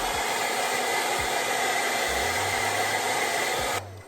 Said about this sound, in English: We're gonna blow dry